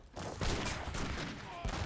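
Heavy cannons in Age of Empires III firing in a dense volley, a continuous roll of overlapping booms and blasts across the whole stretch, loud and close.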